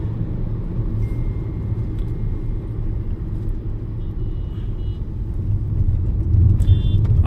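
A car moves through light city traffic, heard from inside the vehicle as a steady low engine and road rumble that swells slightly near the end, with no talk.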